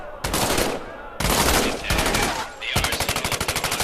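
Loud automatic gunfire in the Medal of Honor: Above and Beyond VR game, several sustained bursts broken by brief pauses and ending in a rapid, evenly spaced string of shots.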